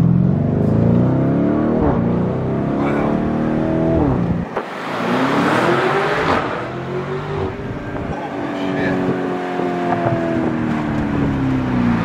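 A Lamborghini Urus SUV in Verde Mantis revs its engine while driving through a tunnel, a loud, booming roar with rising and falling pitch and a pass of echoing acceleration, close and dominant, with some voices mixed in.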